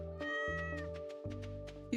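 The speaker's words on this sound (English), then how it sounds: "Excuse me, cat. You're in the way." A cat in the farming video game Stardew Valley gives a clear, close meow, a drawn-out tonal cry over steady game music.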